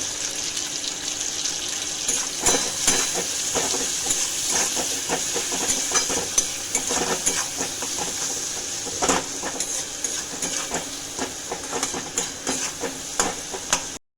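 Onion and tomato frying with salt and turmeric in a pan, a steady soft sizzle and hiss with frequent stirring clicks and scrapes, no talking.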